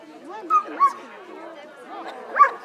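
A dog at a Christmas adoption event in Buso, Rovigo, barks in a few sharp, close yips and whimpers, with people chattering and talking throughout.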